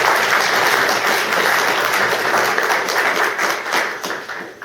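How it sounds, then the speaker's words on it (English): An audience at an all-candidates meeting on poverty and homelessness applauds its election candidates with dense, steady clapping that fills the room and thins slightly toward the end. "So let's have a round of applause"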